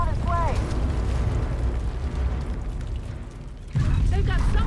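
Mortar barrage explosions from The Division 2 rumble as a loud, sustained low roar that briefly eases and then surges again, with a chirping radio signal over the top.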